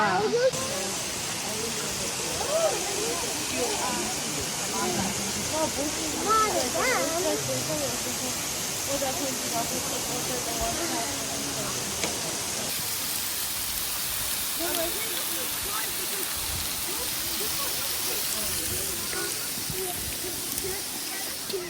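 Water falls from above at the lower level of a hiking trail, a steady broadband rush and hiss throughout that softens slightly partway, with a voice speaking faintly over it.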